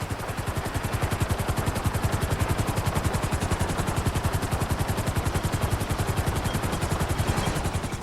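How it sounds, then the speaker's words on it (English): A loud, steady helicopter rotor thumping rapidly and evenly throughout as it lands in GTA Online, close and unbroken, with a constant engine whine above the beat. "land the helicopter in the back"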